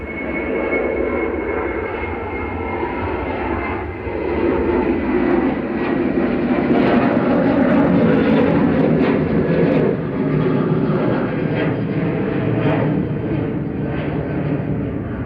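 An airliner passes over Manchester Airport, its loud engine roar swelling and sustaining close overhead, then easing slightly as it moves on.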